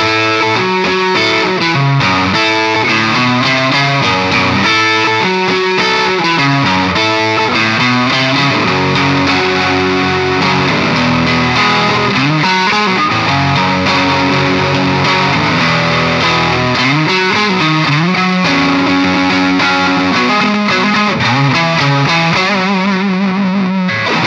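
A distorted electric guitar, an Umeda ST-30R Strat-style guitar on its neck pickup, plays chords and riffs with a warm, thick tone, loud and continuous with no talking.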